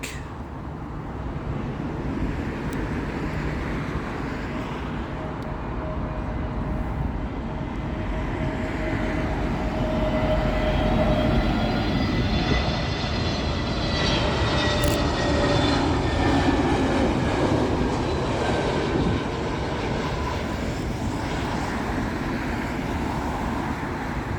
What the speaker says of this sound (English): British Airways A320neo coming in from Reykjavik